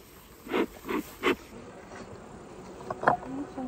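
Honeybees buzzing at an opened beehive during an inspection for fresh honey, heard as several short, close buzzing swells over a steady low hum.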